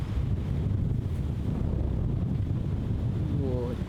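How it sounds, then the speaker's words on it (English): Strong wind on a disc golf course, a steady roaring rumble buffeting the microphone, loud and constant, with a faint voice briefly surfacing near the end. "It's so windy, in fact, Dave Perry's put his hat on backwards"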